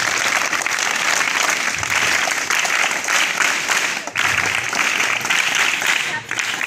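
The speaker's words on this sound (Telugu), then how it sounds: "మీరు అందరూ కూడా ఆయన క్లాప్స్ కొట్టి థ్యాంక్స్ చెప్పండి" A school audience claps to thank a donor who gave 50 chairs, with loud, steady, continuous applause from many hands filling the room for several seconds.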